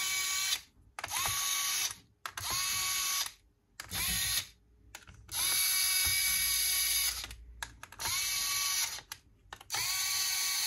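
An electric screwdriver gently pre-tightens screws inside an Acer Predator 17 laptop during fan repair, sounding as a close, loud whirring drill in repeated bursts of one to two seconds separated by short pauses, with no talking.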